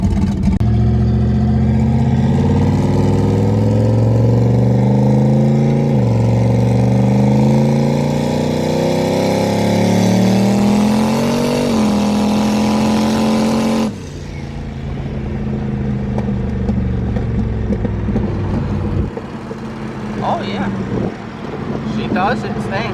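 Turbocharged LS V8 in an S10 pickup fitted with a Mustang transmission, exhaust droning loud as it accelerates through rising gears with shift dips, then a quieter cruising rumble, with talk over it inside the cab.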